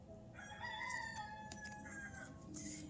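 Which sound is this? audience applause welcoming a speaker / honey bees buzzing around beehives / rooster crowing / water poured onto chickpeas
rooster crowing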